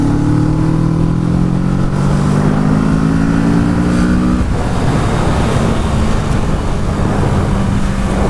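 A 2017 Kawasaki Z650 motorcycle accelerates hard on a test ride, its engine pitch climbing steadily through a gear, then dropping at a shift before pulling again, loud and close over constant wind roar.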